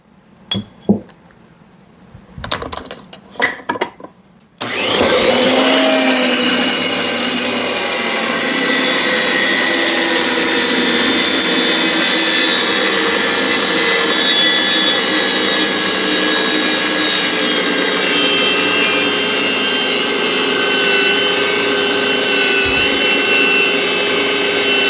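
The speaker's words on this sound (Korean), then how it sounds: "1번과 2번은 한 곳만 나사를 내야 됩니다" A pipe threading machine cuts threads into a pipe. A few sharp clicks and knocks come first, then a loud, continuous grinding mechanical drone starts abruptly and runs steadily for about twenty seconds.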